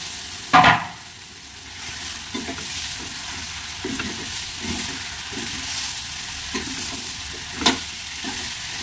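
Tomatoes and chicken stirring and frying in a pan for chicken biryani, a near, steady sizzle with a loud scrape of the spoon at the start and softer stirring scrapes recurring through the rest, no talking.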